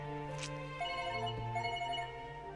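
A phone rings with a steady electronic tone, fairly close, with a low hum beneath and no talking.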